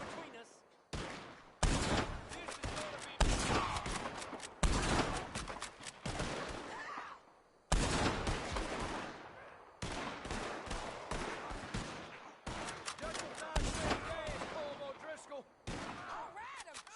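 Gunfire in the Western video game Red Dead Redemption 2 during a shootout with O'Driscoll gang members: repeated loud bursts of rifle and pistol shots in separate volleys with short gaps, voices shouting between them.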